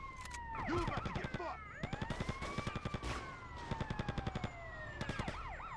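A wailing police siren in GTA Vice City Stories sweeps up and down in repeated cycles. Rapid bursts of machine-gun fire cut across it, close and loud.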